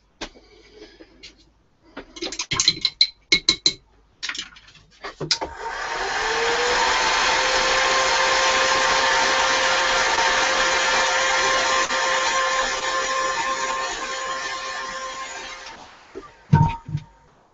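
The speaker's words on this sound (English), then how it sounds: "I use my heat gun to speed dry paint as well." A heat gun blows to speed-dry white paint, a steady loud whirring hiss running about ten seconds after scattered handling clatter, then cutting off.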